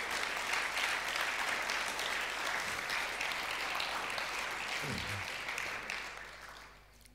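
A church congregation applauding steadily in a large room, a dense sustained clatter of many hands that fades out toward the end, with a brief low voice murmuring underneath.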